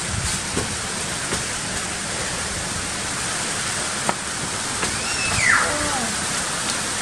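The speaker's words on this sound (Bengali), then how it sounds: "গুড়ি গুড়ি বৃষ্টি পড়ছে" Light rain falls during a windy storm, heard from a rooftop as a steady, even hiss with a few soft taps and a brief rise near the end.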